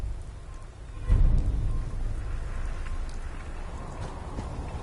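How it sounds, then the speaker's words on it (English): Steady rain hisses across the whole stretch in the video game Fallout 4, with a low rumbling swell near the start like distant thunder, and no voices over it. "Just thinking how wonderful it'd be to get out of this infernal rain."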